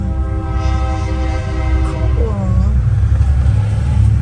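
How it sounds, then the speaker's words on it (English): A loud, steady rumbling roar with a tonal hum, like a train passing close by, continuing throughout with a brief horn-like note partway. "you get a train today"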